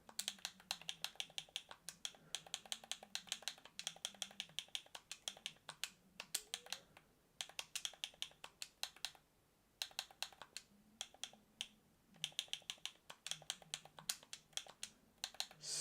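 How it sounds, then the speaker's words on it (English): A password is tapped out on a computer keyboard in quick irregular bursts of clicks, with short pauses and lulls between runs of keystrokes and a faint low hum underneath. "typing a password on this is going to be a problem"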